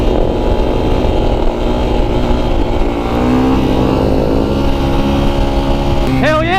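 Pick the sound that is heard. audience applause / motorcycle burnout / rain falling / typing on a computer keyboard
motorcycle burnout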